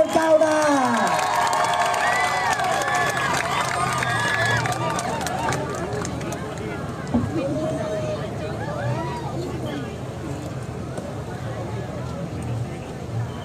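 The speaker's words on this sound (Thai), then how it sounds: "ขอเสียงปรบมือ" A crowd at a political rally by parliament claps and cheers, a broad roar of applause and shouts mixed with busy chatter and voices across the whole stretch.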